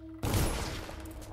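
Gunfire bursts out in the stealth video game Dishonored after a short quiet lead-in, a sudden loud blast with a dense, ringing tail that decays over about a second.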